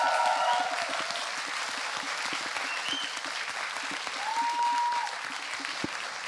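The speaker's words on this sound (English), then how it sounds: "please let's give a warm round of applause for the team" Audience applause for a student team after its project presentation, a steady dense wash of many hands clapping that holds throughout, with faint murmurs beneath.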